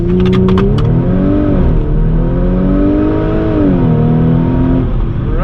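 A B8.5 Audi S4 with APR Stage 2 tune and dual pulley accelerates hard from a standstill through 0-60 mph, a loud close engine roar climbing in pitch with gear shifts, heard from inside the car.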